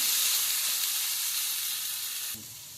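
Capsicum sizzles steadily in oil in a pan while a chicken pizza topping is prepared, a close, continuous frying hiss that drops slightly near the end.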